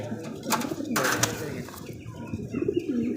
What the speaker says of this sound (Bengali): এখানে দেখতেছি হোয়াইট কালার কিং কবুতর